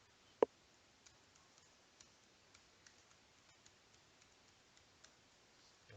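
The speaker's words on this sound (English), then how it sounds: "So I'm just double clicking here and provide my root password" Computer mouse clicking on a desktop, one sharp, close click near the start followed by a run of faint, evenly spaced light ticks in a very quiet room.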